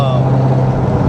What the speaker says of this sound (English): tuning those stock exhaust valves to be open, it does sound really good